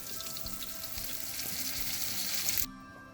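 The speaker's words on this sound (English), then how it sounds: "I have finished frying it on all the sides. See how crispy it is?" Fish sizzles steadily in hot oil, frying until crispy, a close, continuous crackle that stops abruptly near the end.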